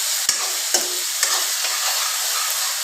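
Tomatoes fry in a pan with onions, a steady close sizzle broken by a few sharp scrapes and clacks of a spoon as they are stirred.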